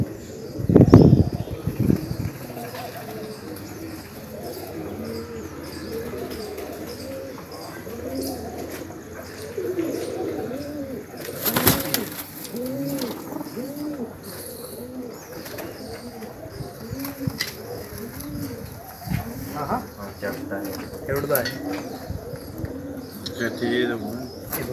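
Pigeons kept for pigeon flying coo continuously, with repeated soft, rolling calls overlapping at a steady rhythm, plus a few scattered chirps and background rustle.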